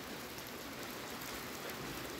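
Steady rain falls on a rice field, a dense, even hiss of drops that continues without pause.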